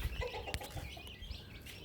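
A desi hen clucking among her brood of chicks in a farmyard: soft, low clucks and thin peeping chirps scattered through a faint, quiet background.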